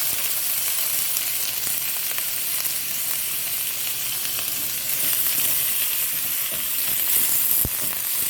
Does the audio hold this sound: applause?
no